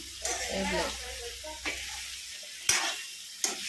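Mutton liver frying in plenty of oil, a steady close sizzle broken by sharp stirring scrapes, with a person speaking over the cooking.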